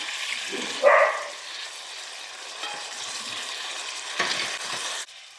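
Chicken breast for buffalo chicken fries in a pan with a quiet, steady sizzle, broken by a louder clatter near the start, a couple of faint scrapes, and a sudden stop at the end.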